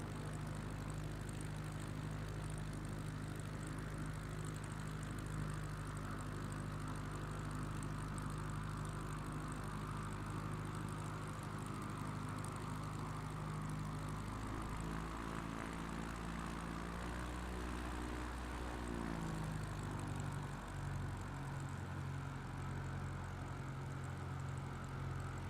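A propeller bush plane engine in Microsoft Flight Simulator drones steadily and loudly throughout, its low harmonic hum shifting pitch briefly partway through as power changes, with no voices.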